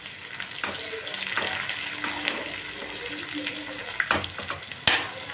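Ginger and green chili sizzling in hot oil for thinai pongal, a steady close crackle with stirring clatters and a few sharper bursts toward the end, no talking.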